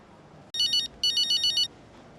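A phone ringtone in the F1 25 racing game chirps in two clear electronic bursts, a short one and then a longer trilling one, loud and close over a quiet background with no talk.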